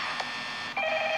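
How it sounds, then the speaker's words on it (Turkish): Telephone ringing in the game Five Nights at Freddy's, with a brief electronic ring tone, a short break, then another sustained ring over a steady hum, fairly loud and with no voices. "Telefon çalıyor."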